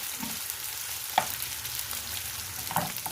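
Mushrooms fry in butter in a pan, a steady close sizzle with a couple of brief clinks of a utensil stirring, no talk.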